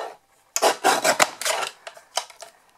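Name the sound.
cutting small pieces of card for a pop-up card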